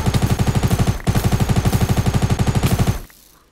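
Rapid automatic gunfire from a weapon in the video game Minecraft rattles in loud, evenly spaced bursts, broken by one brief pause and then cut off abruptly, with no talk over it.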